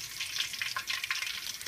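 Turkey goujons fry in hot oil, giving a steady, close crackling sizzle with bursts of popping throughout and no voices over it.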